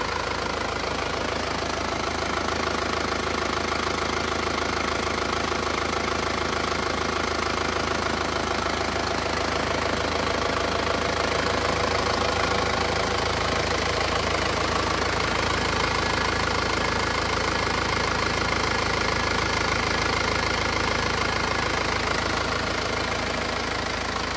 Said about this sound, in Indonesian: Suara mesinnya seperti ini.